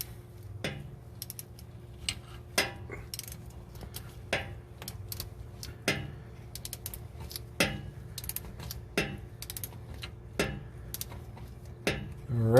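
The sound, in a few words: ratchet tightening drain bolt on Camaro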